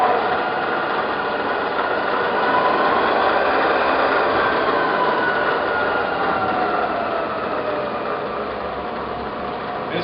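Steady, even hum and whine of a Southwestern Industries 2-axis CNC vertical milling machine spindle running in low gear, loud and continuous with no talk.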